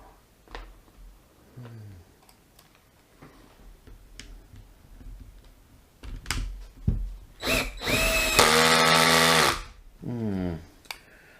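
An Erbauer impact driver's clamshell housing is closed up with screws by a power driver, giving short buzzing whirs with a loud sustained burst near the end, mixed with clicks and handling clatter.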